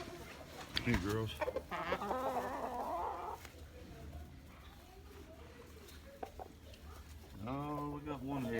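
Chickens on a farm cluck and fuss near and loud, with bursts of harmonic calls at the start and end of the clip and quieter clucking between, while a person talks over them.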